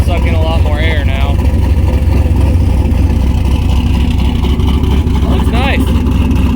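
A ported LS2 V8 in a turbo nitrous Miata at wide open throttle: a loud, steady engine roar that fills the whole stretch, while a voice talks over it.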